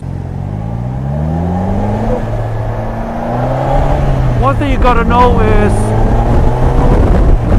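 A 2018 Polaris Slingshot SL three-wheeler accelerates, its engine note rising and building in pitch and loudness, while someone talks over it.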